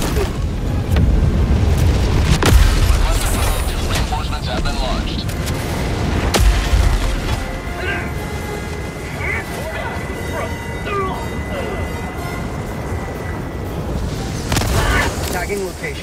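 Artillery strike explosions called down in a Halo match: repeated heavy booms and rumbling blasts across a long, busy battle soundscape, with voices talking over the din.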